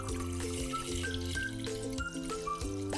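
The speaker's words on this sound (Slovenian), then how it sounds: "Mleko nalijemo v lonec" Milk pours into a pot for homemade yogurt, a steady, soft liquid trickle with faint drips and light clinks under a low kitchen hum.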